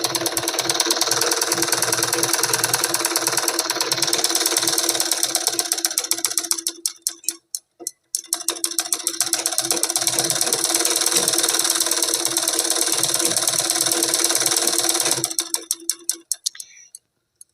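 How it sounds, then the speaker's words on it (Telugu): A sewing machine stitches a half-inch blouse seam in fast, even mechanical bursts. It runs for about seven seconds, pauses briefly, runs again for several seconds and then slows to a stop. "ఒక 1/2 ఇంచులో కుట్టు అనేది కుడదాము"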